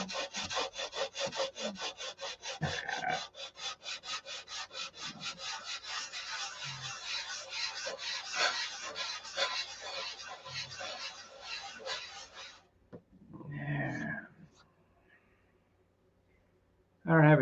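Wooden parts of a model aircraft wing are sanded with fast, rhythmic back-and-forth rasping strokes for about twelve seconds, close up, then stop; a few handling knocks and a voice follow.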